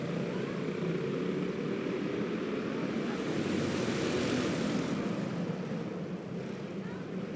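Several Predator Treaded Pro 370-engined karts racing at an indoor raceway in a steady, dense engine drone that swells slightly mid-pass, loud and continuous with no break.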